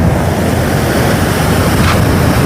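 A loud, continuous roar of rough surf and wind on the beach at Porbandar, with waves churning steadily and no clear breaks.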